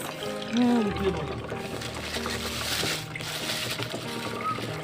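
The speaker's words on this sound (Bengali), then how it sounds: "যে মাছটা রান্না করব সেটা প্রথমে ধুয়ে নিই" Kajli fish being rinsed in water in a home kitchen before cooking, a soft steady splashing and trickling at close range, fairly quiet, with a faint background hum and a brief voice-like tone.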